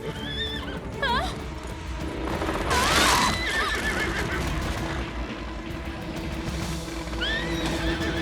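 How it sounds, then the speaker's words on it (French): A cartoon unicorn whinnies shrilly and repeatedly, stamping its hooves in rapid clattering beats amid lively animated action and brief background effects. "Essaie de l'enlever en tapant des sabots!"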